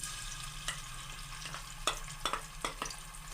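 Green chili, garlic and ginger paste frying in hot ghee gives a soft, steady sizzle, broken by a few sharp clinks and scrapes of a spoon stirring the pan.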